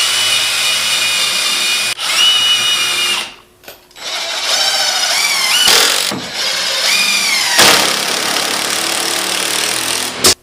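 Power drill driving 3.5 inch deck screws into wooden cornhole board corners, a loud sustained whirring that runs in several long bursts, with a couple of brief pauses and rising pitch sweeps as each screw seats.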